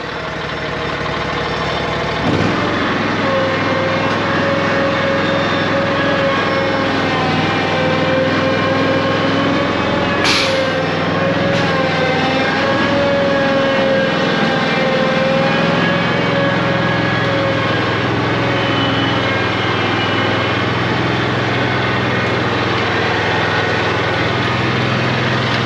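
A lawn mower engine runs at a steady idle, loud and close, with a constant droning hum and a brief clank partway through, no voices.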